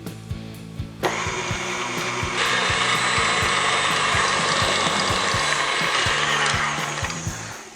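An electric mixer beats pumpkin puree into an American buttercream base. The motor kicks in after a second, whirring loud and steady with rhythmic knocking from the bowl, and jumps to a higher speed partway through before easing off at the end.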